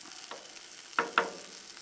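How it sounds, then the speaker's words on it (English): Faint background hiss broken by two short, sharp sizzling bursts of chicken stir fry frying in a hot pan, with no voices. "this chicken with this island stir fry on it right now, frying up"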